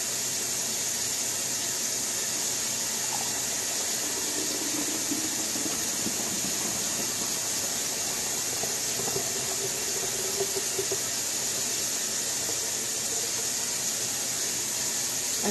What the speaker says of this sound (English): And then I'll rinse my bowl.